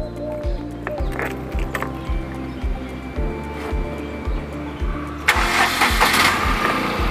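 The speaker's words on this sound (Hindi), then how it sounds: "फिर वो अपने आप गाड़ी का इग्निशन ऑन करके स्टार्ट करेंगे।" A car fitted with an adaptive one-hand driving kit is started with the ignition, showing a repeated low cranking rhythm that then catches into a louder running engine, heard up close.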